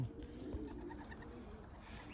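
Racing pigeons on their first release coo softly outdoors in a short, steady murmur, fairly close and continuous with no talk.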